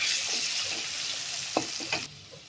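Steady hissing sizzle of potatoes frying with turmeric in a pan, with a few scraping stirs near the end; no voices.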